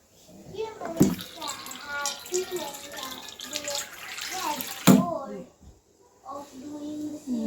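Water poured into a cooking pot at home, splashing and running for several seconds beneath near, nearly continuous talk from a woman and a child.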